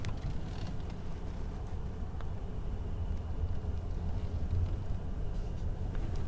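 Cabin of a 2020 Mercedes E300 hybrid sedan on the move, a steady low rumble of road and drivetrain noise, even and continuous with no talk.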